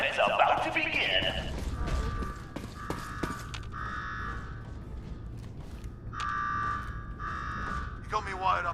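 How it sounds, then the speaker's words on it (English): An alarm in Fallout 4 buzzes in repeated bursts at a steady rhythm, mixed with mechanical creaks and voices talking. "Now go shut off that damn alarm."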